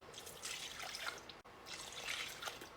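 Two cups of warm water being poured into a bowl with active sourdough starter for a same-day sandwich loaf, a steady splashing trickle that runs almost continuously with one brief break midway.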